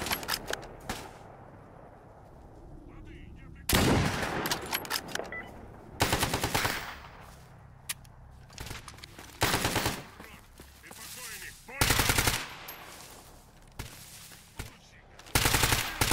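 Heavy automatic gunfire from powerful weapons in the shooter Stalker GAMMA, with loud repeated bursts and volleys breaking out every couple of seconds over a quieter ambient background.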